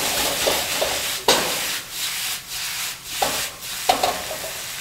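Vegetables being stirred in a pan to coat them in stir fry sauce, soft scraping and rubbing strokes with a few sharper knocks, close and fairly quiet with no talking.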